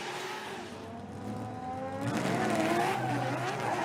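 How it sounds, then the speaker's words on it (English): A Formula Drift car engine revs and drones steadily, with tire squeal building as it drifts, growing louder toward the end. "See the lights extinguish and the car rolls."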